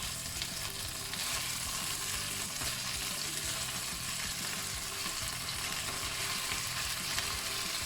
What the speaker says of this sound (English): I'm going to brown both sides of the beef.